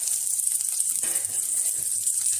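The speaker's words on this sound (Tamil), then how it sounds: "லோ ஃப்ளேம்லேயே வச்சு வறுத்துக்கலாம்" Ingredients roast in oil in a kadai over a low flame, giving a steady, soft sizzle with faint crackles close by, no voices.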